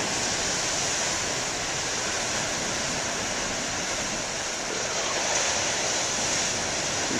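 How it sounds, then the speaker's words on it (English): Big ocean waves breaking on a beach near a lighthouse, a steady, dense roar of surf that fills the whole stretch without pause, with no voices. "Sometimes you get big waves,"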